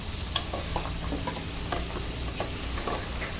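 Masala-stuffed eggplant frying in a pan for undhiyo, a steady close sizzle with intermittent stirring scrapes and taps throughout, no one speaking.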